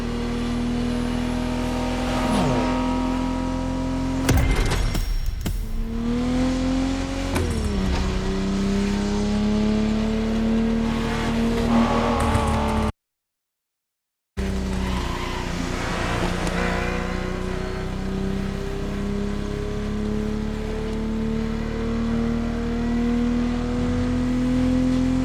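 Racing cars in The Crew Motorfest, set on a Hawaiian island, with engines droning and revving at length, gear shifts and pitch sweeps as vehicles accelerate, loud and close, broken by a brief gap of silence.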